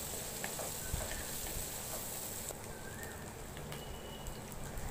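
Onions sauté in oil left over from frying prawns for a prawn biryani, giving a steady, fairly faint crackling sizzle with scattered small pops throughout.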